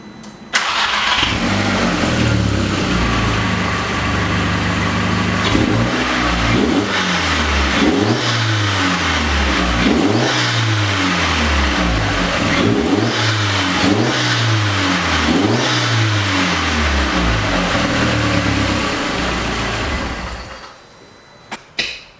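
A 1.8-litre turbo engine in an MK4 VW GTI fitted with a K&N cold air intake revs repeatedly, loud and close, rising and falling in steady throttle blips for about twenty seconds before cutting off.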